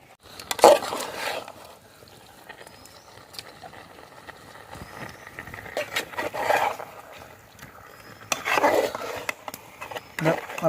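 Chicken pieces are stirred in a cooking pan, giving intermittent scraping knocks of a spoon against the metal. Quiet sizzling runs between the louder stirs.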